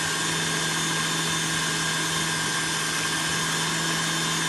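Electric stand mixer beating orange cake batter as oil is added, a steady motor whir with a constant hum, unbroken and close, no talking.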